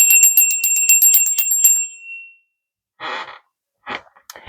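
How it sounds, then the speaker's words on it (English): A small bell is rung rapidly to open a tarot reading, a bright, close trill of about a dozen quick strikes that rings out and decays, followed by a few soft rustling noises. "I'm going to ring the bell"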